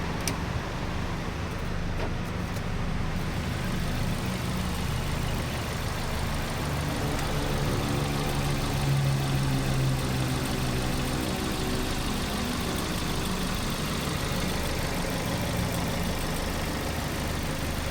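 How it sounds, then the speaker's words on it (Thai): A 2019 Suzuki Carry small pickup truck's engine idles steadily nearby, a constant low rumble with no talking. "เดี๋ยวเราลองมาฟังเสียงเครื่องกันดูนะครับ"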